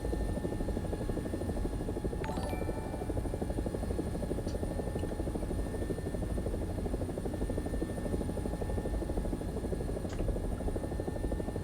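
An AB 205 A-1, the Italian UH-1H helicopter, flying in a video game: a steady, loud rotor and engine drone runs without a break throughout, with no voices over it.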